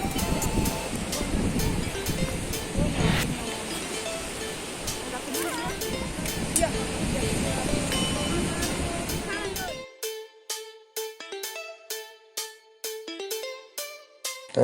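Waves wash continuously onto a busy beach at Pantai Cleopatra in Calang, Aceh Jaya, with wind noise throughout; the surf gives way to music partway through.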